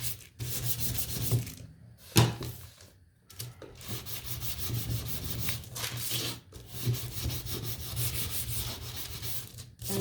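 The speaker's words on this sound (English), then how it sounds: "And this one you only have to sand the top" Sandpaper rasps back and forth over the edges of a wooden egg in repeated close strokes, broken by short pauses.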